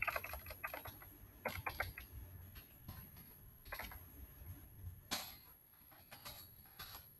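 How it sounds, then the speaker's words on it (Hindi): Bursts of keystrokes on a computer keyboard while entering text into a spreadsheet, quick irregular clicks in short clusters with pauses between, close and fairly quiet, no voices. "अब कुछ भी यहाँ पर टाइप कीजिएगा।"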